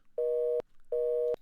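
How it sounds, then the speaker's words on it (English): Two loud, even busy-signal beeps from a telephone in the video game McKenzie & Co, each about half a second long, separated by a brief gap. "Okay, that sound's engaged."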